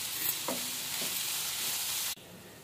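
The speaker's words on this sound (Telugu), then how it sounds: "సన్నగా కట్ చేసుకున్న క్యాబేజీ కూడా వేసి బాగా మగ్గనిద్దాము." Thinly cut cabbage and onion sizzle steadily in a hot pan, a bright continuous hiss with a couple of soft stirring scrapes, cutting off abruptly near the end.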